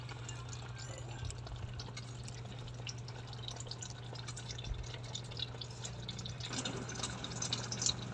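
Boiling cooking oil is poured for a dish of udon with sardines, giving a soft trickling and dripping over a steady low electrical hum, with no voices.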